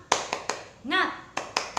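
Rhythmic 'tepuk semangat' clapping by Sunday school children, a few sharp claps, a brief voiced cheer in the middle, then more claps in a steady pattern, fairly close.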